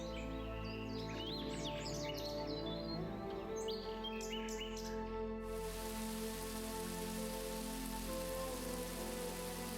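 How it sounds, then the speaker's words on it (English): Steady rain falls in a dense Olympic Peninsula forest in Washington, a continuous hiss of drops on leaves, with birds chirping faintly through the first half. "The rain here isn't just frequent, it falls in quantities that most weather systems can't produce in a full year."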